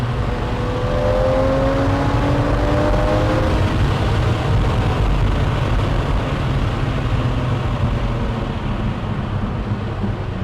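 Lamborghini Murciélago 40th Anniversary Limited Edition driving fast, a loud sustained engine roar with rising tones early on as it accelerates, heard steadily from inside or close by.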